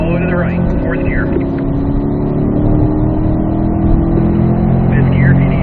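A C8 Corvette's engine drones loud and steady as it accelerates around a race track, with a sustained interior roar, while an instructor speaks calmly over it.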